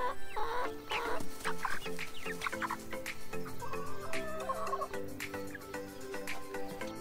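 Several chickens, new chicks and older hens, cluck and squawk continuously in a coop, a busy overlapping chorus of clucks and calls with no talking.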